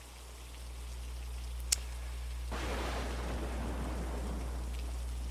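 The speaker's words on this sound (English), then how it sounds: "I did not time that lightning strike there." Rain falls steadily over a low hum, with a sharp single crack of a lightning strike and then the rain swelling into a heavier, rushing downpour that rolls on to the end.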